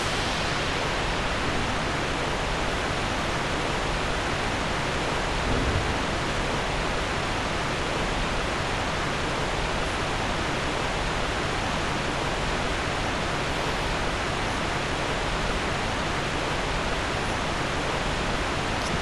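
A waterfall in the video game Dark Souls 2 rushes as a loud, steady, unbroken roar of falling water that fills the whole stretch without pause.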